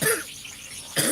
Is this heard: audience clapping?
no